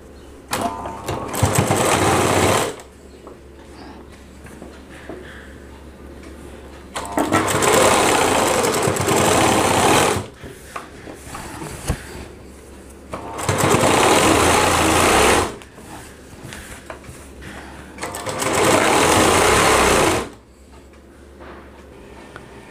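A sewing machine runs in four long bursts of fast, steady stitching while a lehenga is sewn, with quiet pauses between the runs and no talk.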